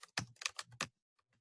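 A short burst of typing on a computer keyboard in a Linux terminal text editor: about six quick, close, distinct keystrokes, then near silence with a couple of faint taps.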